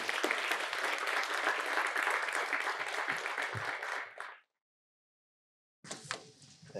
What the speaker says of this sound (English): give a warm applause for Kevin Anderson